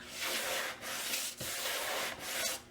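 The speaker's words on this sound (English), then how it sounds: "Now I'm going to sand with a 60 grit. I'm going to use the sanding block" Steady, raspy scraping of a 60-grit sanding block rubbing back and forth over paint on a wooden sign, in about three long strokes, close and continuous.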